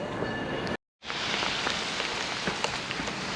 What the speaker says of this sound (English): as you can see, it's raining like hell